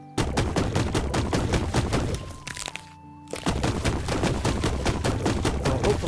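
Rapid gunfire in the video game Black Skylands, loud dense bursts of shots filling most of the stretch, broken by a short quieter gap with a held tone before the shooting resumes.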